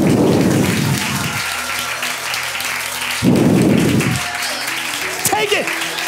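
A church congregation bursts into loud clapping in two strong rushes, between which a sustained organ or keyboard tone and voices carry on, with a shout near the end.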